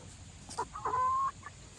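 A pet hen clucks close by in a few short bursts, ending in one longer drawn-out cluck, with no talking over it.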